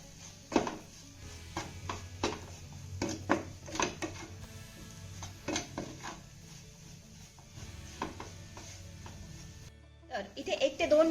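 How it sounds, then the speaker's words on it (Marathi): Spiced potato bhaji with amchur powder is sautéed in a pan, sharp spatula clinks and scrapes coming irregularly and fairly quietly, with a voice speaking near the end. "आता हे सर्व साहित्य आपल्याला एक ते दोन मिनिटं चांगलं परतून घ्यायचं आहे"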